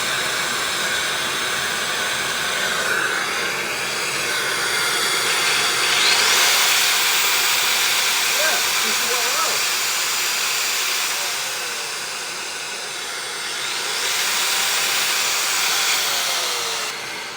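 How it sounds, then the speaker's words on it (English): A Hoover vacuum cleaner runs at full power as dust extraction for a wall chaser, giving a steady, loud, close airy roar that rises and falls slightly for the whole stretch, with no talking. "So then let's turn the Hoover on."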